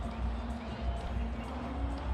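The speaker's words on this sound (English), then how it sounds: "The crowd's happy." Cricket stadium crowd at a T20 match between India and Sri Lanka, a steady loud roar of cheering voices filling the space with a low rumble underneath, continuous throughout.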